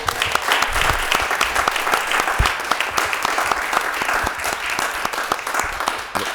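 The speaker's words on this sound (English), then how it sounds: "Let's give Mohammed another round of applause" An audience at a Pittsburgh city council meeting applauds, a dense, steady patter of clapping hands that fills the room at close range and carries on throughout without talk.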